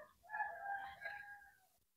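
A chicken gives a drawn-out crowing call, close but quiet, lasting under two seconds and heard alone against faint background rumble.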